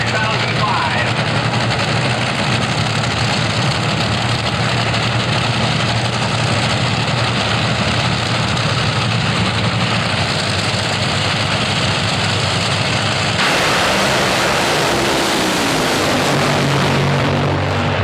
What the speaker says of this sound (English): Let's watch what 454 looks like from the cockpit of Clay Millican's Top Fuel dragster